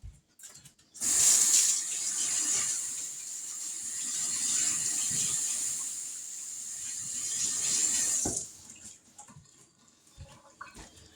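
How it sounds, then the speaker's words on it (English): Water runs from a kitchen tap in a steady hiss for about seven seconds while hands are washed, then shuts off, leaving faint handling noises, with no talking. "let me wash my hands again."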